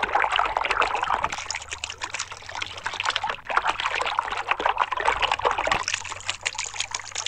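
Water pours and trickles into a container in a continuous splashing stream, close and fairly loud, with brief pauses where the flow shifts and no talk.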